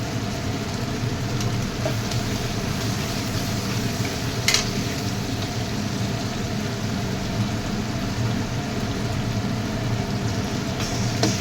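Chili chicken frying with green chili sauce in a pan, a continuous dense sizzle and bubbling with light stirring scrapes and one brief sharp crackle.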